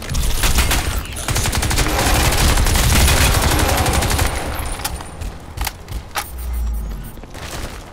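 Sustained automatic gunfire in the shooter game Crysis 2, dense and loud rapid bursts for several seconds that then thin into scattered shots and a low rumble near the end.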